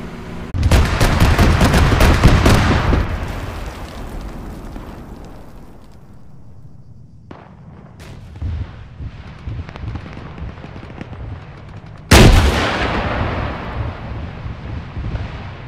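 Rocket launches and explosions in the military video game Arma 3: a loud roaring blast that fades into a long rumbling decay, a sharp crack partway through, then a second heavy blast and rumble near the end.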